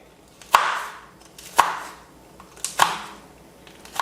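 A knife chops celery and red chili on a cutting board: three sharp, separate strikes spaced about a second apart, with a softer fourth at the end, close and clear with no talk.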